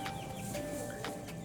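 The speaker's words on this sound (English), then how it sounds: "And here we of course have the black chicken of Bohuslän again." Bohuslän black chickens cluck softly at a zoo farm enclosure, with several short overlapping clucks and faint bird chirps over a steady, fairly quiet outdoor background.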